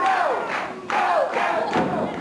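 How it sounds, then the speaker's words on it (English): A wrestling arena crowd at a St. Louis match chants and yells for Kevin Von Erich, loud rising and falling voices in waves with a couple of dull thumps. "The crowd begins to chant and yell for Kevin Von Erich"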